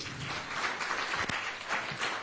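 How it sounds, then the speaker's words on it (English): Audience at a democracy anniversary event in Abuja clapping for a speaker, a fairly faint, even wash of many hands with one sharper clap standing out near the middle. "Please clap for him again"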